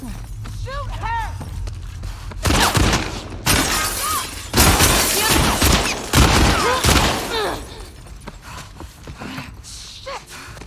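Bursts of gunfire from The Last of Us Part 2, loud and close, come in clusters around the middle of the stretch, broken by sharp impacts and mechanical clatter over game ambience, with voices between the shots.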